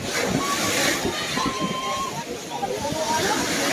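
Large waves slosh and splash around racing boats at sea during a bancarera boat race off Malaysia, a steady rough wash of water with engine noise, with a voice talking over it.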